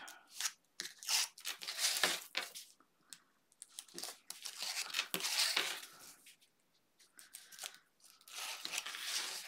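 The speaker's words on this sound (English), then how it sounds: "I'm going to go ahead and get the backing off of my tape." Adhesive tape backing being peeled off during a craft project, heard as a run of close, crisp tearing and crinkling bursts separated by brief pauses.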